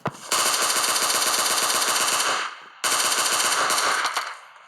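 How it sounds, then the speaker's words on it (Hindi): Sustained automatic gunfire from an UZI in a mobile shooter video game, two long loud rapid bursts separated by a short pause, close and alone with no talking. "और उस साइड से भी फायरिंग हो रही है।"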